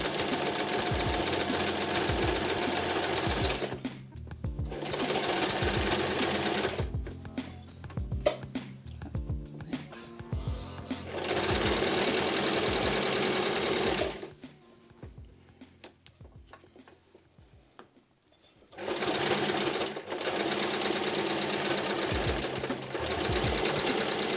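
Sewing machine stitching fabric for a simple tote bag, running in steady rapid bursts with brief pauses at the corners where the needle stays in and the fabric turns.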